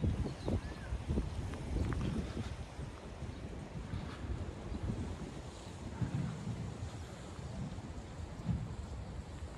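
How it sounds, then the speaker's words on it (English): Steady breeze blowing across a microphone at a sunny seaside campsite in Yzerfontein, a continuous rough rushing with soft gusts and no voices. "Breeze is actually quite nice to cool it down a bit"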